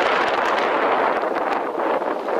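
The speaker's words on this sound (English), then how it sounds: "The wind is horrendous." Strong wind roaring across the microphone on the cloud-covered summit of Roan Mountain, Tennessee, at about 6,200 feet: a loud, continuous rushing gust with slight swells and no voices.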